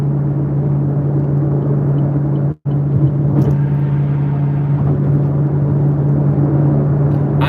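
A Chevrolet Camaro ZL1 cruises with a steady low engine hum and road rumble heard from inside the cabin, with a brief dropout partway through.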